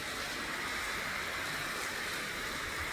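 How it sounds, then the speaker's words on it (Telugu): A rain shower falling steadily outdoors while someone walks in it, a dense, even hiss of drops that holds constant throughout with no speech. "వర్షం జల్లు వస్తుంది, ఇటు వాన జల్లు వస్తుంది ఫ్రెండ్స్"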